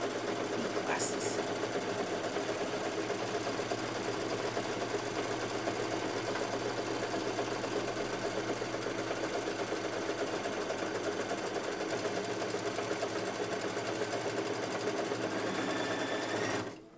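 Kimberbell embroidery machine stitching a placement line: a steady, rapid mechanical whir and needle chatter running continuously at moderate level, ending abruptly as it stops.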